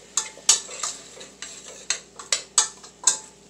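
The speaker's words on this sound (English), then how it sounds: "just stir them around. Combine everything nicely." Carrots and onions being stirred in a cooking pot for lentil beef bacon soup: a spoon scraping and clinking against the pot in quick, irregular strokes over a soft background sizzle.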